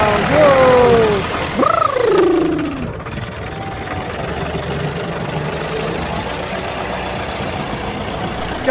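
A large tractor on a jammed village road, its engine idling and knocking with a steady low chug. The running engine is loud and close throughout, and a person speaks briefly in the first few seconds.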